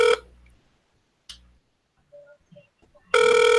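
A telephone ring tone sounds on a call placed to reach a voicemail, with two loud tonal bursts at the start and end separated by near silence and faint clicks.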